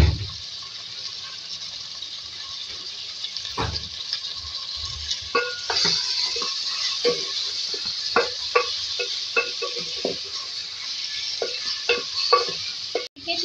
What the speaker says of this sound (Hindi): अच्छी तरीके से इसको फ्राई करेंगे।